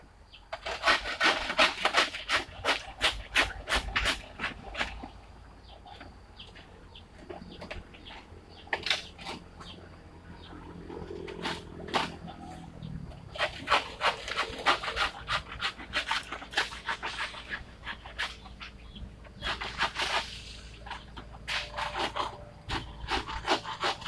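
A hand saw rasps through dry bamboo in quick bursts of back-and-forth strokes, close and scratchy, pausing between rounds of cutting.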